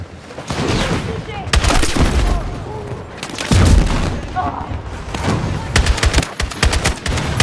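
Gunfire in the video game Battlefield 6, dense rapid bursts and single loud shots with booming impacts throughout, while voices call out over the shooting.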